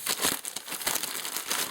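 A noodle packet being cut open with scissors, close crinkling plastic with dense rustles and crackles through the short stretch, no speech.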